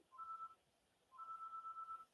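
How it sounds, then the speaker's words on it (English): A phone goes off with two bursts of electronic warbling beeps, a short one and then a longer one, faint but clear over a quiet room. "the phone's going off"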